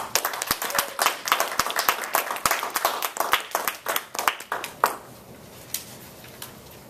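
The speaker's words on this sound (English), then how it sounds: "please give him a warm round of applause" Audience applause for a speaker taking the stage: a small crowd claps briskly and densely for about five seconds, then thins to a few scattered claps before fading.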